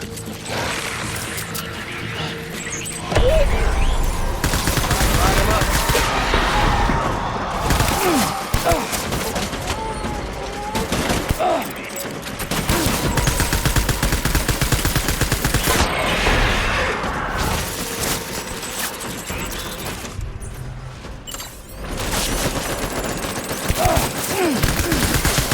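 Sustained bursts of gunfire rattle through combat in Death Stranding, loud and dense for most of the stretch with brief lulls between volleys, alongside occasional thumps and mechanical clatter.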